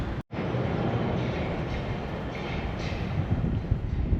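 Wuppertal Schwebebahn suspension railway train running overhead, a steady, dense rumble and rolling roar that stays loud throughout, with a brief cut near the start.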